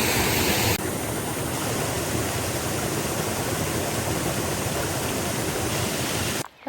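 A waterfall in Umpqua National Forest roars with a dense, steady rush of falling water heard up close. It fills the whole stretch with no voices and cuts off abruptly at the end.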